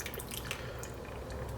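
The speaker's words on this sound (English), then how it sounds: "if there are, we're going to pour that in the pan too" Meat juices trickle and drip from a bowl into a pan while a Sichuan pepper stir-fry is being prepared, a quiet, close, wet dribbling sound that carries on for the whole moment.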